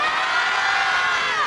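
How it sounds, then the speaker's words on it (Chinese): A large outdoor crowd at an evening concert and lighting ceremony in Fengshan's Dadong Park screams and cheers loudly. The roar is dense and continuous, with high shrieks and whoops throughout. "尖叫声再来一下"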